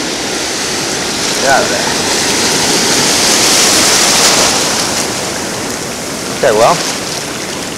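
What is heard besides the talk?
big waves crashing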